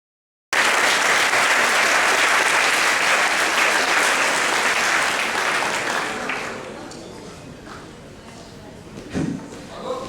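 An audience at a hypnosis show applauding a trainee, a dense, loud burst of clapping that holds steady, then gradually thins and fades toward a few scattered claps near the end.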